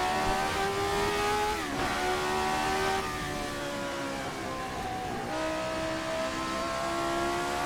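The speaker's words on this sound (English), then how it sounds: "It's such a great noise from that motor." A racing car engine in a 1979 Formula 1 ground-effect car in a racing game revs hard and climbs through gears, pitch rising then dropping at each shift, loud and continuous with a synthetic game-like tone.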